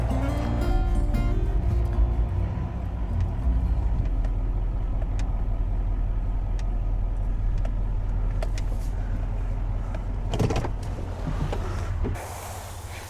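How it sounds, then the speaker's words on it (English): Truck pulling up on a winter farm, a steady low engine rumble dominating throughout with occasional clicks and knocks, close by, easing off near the end. "Pull the truck up"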